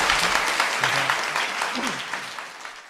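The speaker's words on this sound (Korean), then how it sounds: "박수 부탁드립니다." Studio audience applause at a Korean political talk show, a steady burst of clapping that gradually fades over a few seconds.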